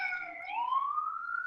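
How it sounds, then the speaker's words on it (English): A New York City emergency siren wails alone, one rising tone that sweeps smoothly upward, moderately loud and slightly distant. "Is the answer a New York City siren?"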